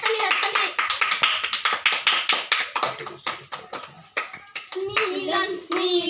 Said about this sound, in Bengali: হাততালি হাততালি হাততালি হাততালি